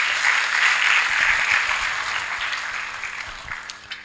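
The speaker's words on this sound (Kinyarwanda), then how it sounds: "Imana ibahe umugisha mufashe bakomera amashyi." An audience applauding at a testimony gathering, a burst of loud, dense clapping that gradually thins and fades toward the end, with no voices over it.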